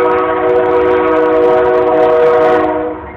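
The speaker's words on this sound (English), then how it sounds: "Hear the train? That's like maybe 100, 200 feet away from here." A loud, sustained horn from a passing train about 100 to 200 feet away blares with steady harmonic tones for about three seconds, fading slightly at the end, without talking.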